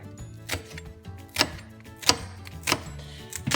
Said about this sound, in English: So my dad is chopping the onion.